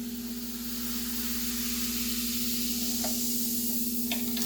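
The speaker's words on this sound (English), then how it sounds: "Whoa! And that's fizzing." Baking soda fizzing in a drink mixture being made in a kitchen, a steady bubbling hiss that holds for several seconds over a constant low hum, with a couple of faint clicks near the end.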